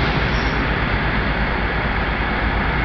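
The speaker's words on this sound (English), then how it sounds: "Well, it's not a very long freight train." A short freight train covered in graffiti passes at Plymouth, a loud steady rumble and clatter of wagons rolling close by, continuous for the whole stretch with no voices.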